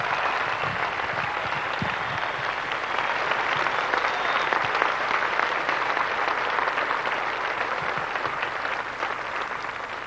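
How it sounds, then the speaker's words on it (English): Tennis crowd at the Amelia Island 1994 final between Sanchez Vicario and Sabatini applauding the finalists and runner-up, a dense, steady roar of clapping sustained throughout without a break. "let's give a roaring applause for the the finalists and the runner-up here today"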